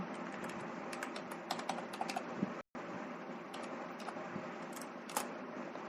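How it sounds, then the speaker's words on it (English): Someone types a C program on a computer keyboard, producing quiet, rapid, irregular key clicks with a short pause midway. "So I am typing now my first program"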